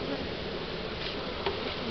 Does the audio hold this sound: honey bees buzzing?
yes